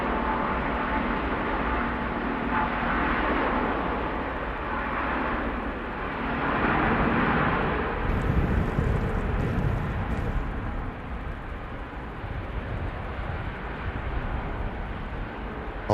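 A Cathay Pacific airliner at Manchester Airport in strong winds, a loud sustained jet roar with broad rushing noise that swells and holds steady throughout, with wind buffeting and no talk.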